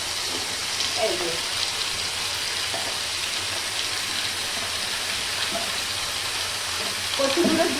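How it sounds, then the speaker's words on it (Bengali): Potatoes and taro fry in a wok with carom seeds, cumin and dried red chilli, giving a steady, close, hissing sizzle throughout, with a few soft clinks and stirring sounds near the end. "এই যে আলু আর কচু কড়াতে দিয়ে দিলাম, জোয়ান জিরে আর শুকনো লঙ্কা ফোড়ন দিয়ে এগুলো দিয়ে একটু ভাজবো।"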